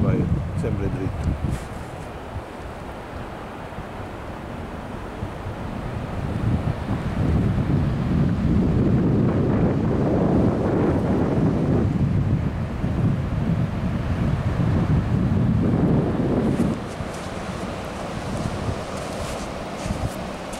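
Sea waves wash onto the beach at Renesse in the Netherlands while wind buffets the microphone, a steady loud roar that swells in the middle and eases near the end, with people talking over it.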